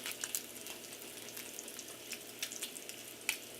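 Bacon sizzles in a pan with a soft, steady crackle and scattered pops, faint and close, with no voices.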